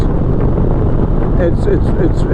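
Heavy, loud wind buffets a motorcycle rider's helmet at 110 km/h, a constant roaring rush with some thumping and rattling at the edges.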